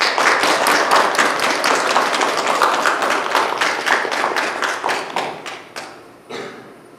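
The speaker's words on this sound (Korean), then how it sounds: "우리 선교사님 나오실 때 큰 박수로 환영해 주시기 바랍니다." A church congregation claps in welcome for a missionary, a dense, lively burst of applause that holds steady, then thins out and fades toward the end, with no voices over it.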